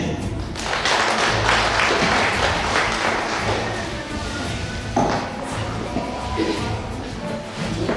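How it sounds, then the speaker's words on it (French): Classroom applause for M. Ndiaye after a lesson on sexually transmitted infections, a dense patter of clapping hands sustained across the whole stretch with some shuffling and faint voices mixed in. "Merci à M. Ndiaye. Applaudissez."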